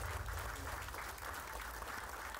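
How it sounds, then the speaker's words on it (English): Applause for a school division band at a tournament event, a steady, dense wash of clapping that holds evenly for the whole stretch without any voices over it. "let's have a round of applause for them"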